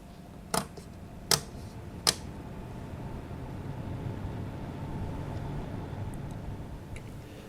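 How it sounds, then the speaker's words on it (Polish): Infinity Game-ON K355 PC case fans spun up to a higher speed, giving a quiet, steady whooshing hum, preceded by three sharp clicks early on. "A kiedy zwiększymy prędkości obrotów wentylatorów w obudowie, będziemy mieli następujący efekt."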